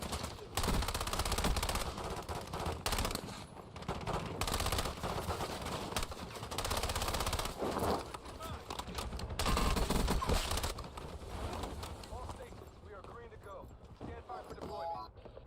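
Rapid gunfire bursts from the battle-royale shooter Warzone ring out repeatedly and loudly across the whole stretch, mixed with a dense game soundscape and someone talking over it.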